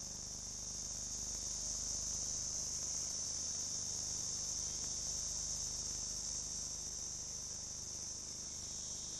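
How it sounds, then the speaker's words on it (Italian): Steady high-pitched drone of a cicada in Madagascar's hot, arid spiny forest, continuous and unbroken, alone with no voices. "come questa strana cicala"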